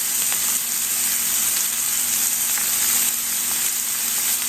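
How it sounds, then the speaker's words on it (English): Brussels sprouts sear in a hot pan with a loud, dense, unbroken sizzle, close up and steady, with faint occasional pops over the constant hiss. "While the Brussels sprouts are cooking"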